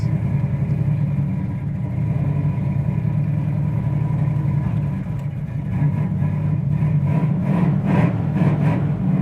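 A 1978 Camaro Z28 V8 engine idles with a deep, steady rumble close by, then a few quick revs rise toward the end.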